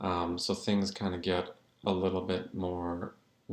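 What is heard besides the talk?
None of the usual background noises is heard.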